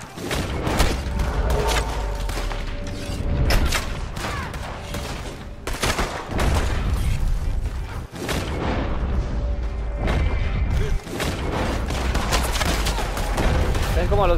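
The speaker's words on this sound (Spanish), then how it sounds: "disparos me atraviesan" Gunfire in Red Dead Online during a free-roam event: repeated loud shots and booming volleys crack in close succession, with brief gaps between bursts throughout.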